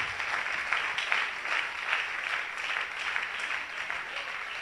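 Steady applause from a church congregation honouring God, a continuous wash of many clapping hands, moderately loud and even throughout.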